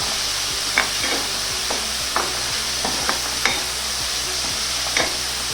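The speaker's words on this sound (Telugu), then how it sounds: "yellow క్యాప్సికమ్, రెడ్ క్యాప్సికమ్ వేసుకొని బాగా మిక్స్ చేసుకోవాలి." Yellow and red capsicum being stir-fried for paneer fried rice, a steady sizzle in a hot pan broken by repeated short scraping strokes of a spatula at an uneven rhythm, close and clear with no talking.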